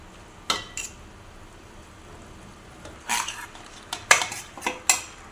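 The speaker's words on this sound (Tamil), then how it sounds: "இப்போ வந்து நம்ம ரெடின்னு வச்ச சிக்கனை போட்டுக்கிறோம்" Chicken goes into a pan of tomato curry and gets stirred, a spoon scraping and clinking against the pan in a few sharp, irregular bursts over a faint low background.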